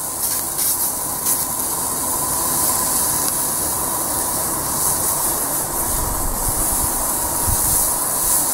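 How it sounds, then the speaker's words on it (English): Lean beef burgers sizzle loudly on a hot barbecue, a steady crackling hiss with scattered pops throughout. "barbecue should be hot enough that you hear that nice sizzle as you're placing the burgers down"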